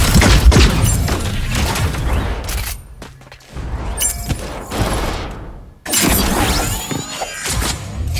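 Gunfire from the Super Mecha Champions video game: loud, dense bursts of shots and impacts crackle through most of the stretch, broken by a short lull before another heavy barrage.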